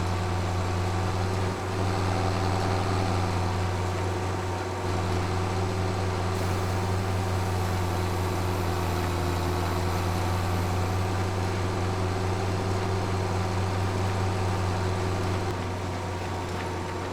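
A New Holland T8020 tractor engine in Farming Simulator 25 drones steadily while climbing uphill with a New Holland BB9090 baler, a loud continuous low hum with no talk.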